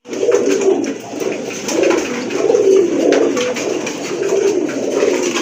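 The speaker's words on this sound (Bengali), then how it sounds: "মাশাআল্লাহ, খুবই সুন্দর এক জোড়া কবুতর, আসলে দেখার মতো বিগ সাইজের কবুতর।" A pair of large pigeons cooing steadily and close by, their low rolling calls repeating in soft overlapping waves with no talk.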